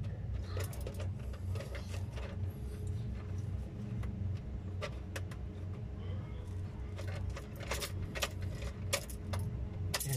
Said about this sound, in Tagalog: i-on ko susi yung ignition switch niya